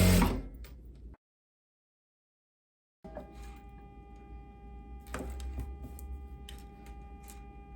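A sewing machine stitches the collar of an eyelet lace dress with a faint, steady mechanical whir and light ticking. It starts with a short burst, falls silent for about two seconds, then resumes with occasional louder clacks.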